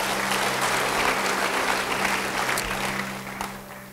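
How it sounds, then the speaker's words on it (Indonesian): A church congregation applauds together, a dense, sustained clatter of many hands that holds steady and then tapers off near the end, with a low background hum beneath it. "Yang percaya beri tepuk tangan bagi dia."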